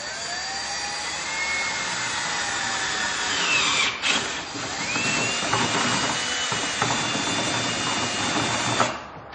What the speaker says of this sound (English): now we're going to take a 1/2-inch drill bit and drill a hole in the control panel